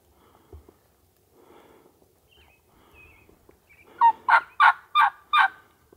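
Quiet rustling, then a wild turkey gobbles in a quick series of five loud, rattling bursts close by, outdoors in the western United States.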